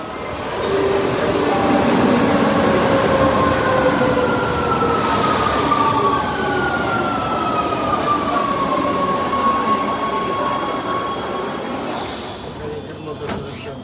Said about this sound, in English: Here I am departing Barberini on Metro Line A